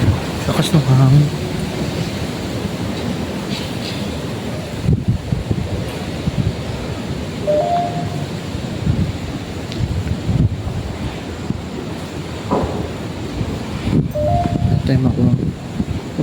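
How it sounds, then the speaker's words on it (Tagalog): Strong wind buffets the microphone outdoors at a sunken church, a loud continuous roar with gusting surges, mixed with a wash like surf and occasional voices talking. "Lakas ng hangin."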